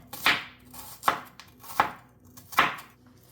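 A knife chops a medium onion into small pieces on a board for a paneer cheese sandwich, four crisp, evenly spaced thuds close by, with nobody speaking.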